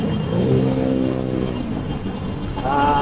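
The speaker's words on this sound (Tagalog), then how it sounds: "Tuloy-tuloy pa rin traffic." Car traffic rolling along Marcos Highway near SM Marikina, a steady engine and road hum that lasts throughout, with one vehicle's engine noise rising near the start and another near the end.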